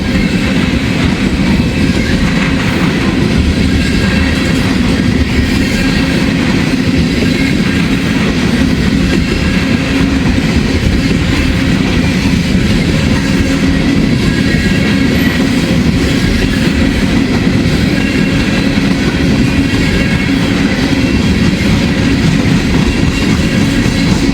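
A loud, empty ethanol freight train rolls past continuously on a curve, with rumbling wheels, rattling cars and occasional metallic squeals and creaks.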